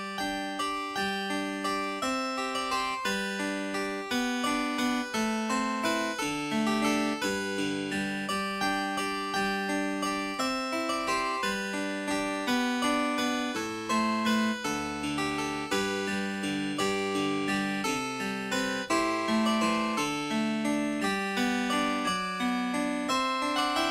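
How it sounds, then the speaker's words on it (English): A harpsichord plays the lively early dance tune Mistress Winter's Jump, bright plucked notes in a steady bouncing rhythm, continuous and fairly soft, with no voices. "So this is the sound of a harpsichord."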